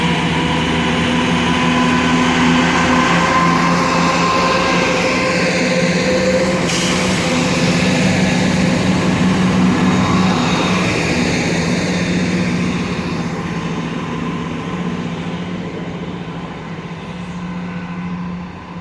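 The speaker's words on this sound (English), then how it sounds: "the 10:43 ScotRail service to Dunblane is now leaving" At Edinburgh Park station, a ScotRail Class 170 diesel train pulls out toward Dunblane as a tram arrives, making a loud, continuous engine drone that holds steady and then eases slightly toward the end.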